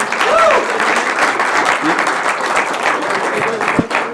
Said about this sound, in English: Can we get Claudine a round of applause, everybody?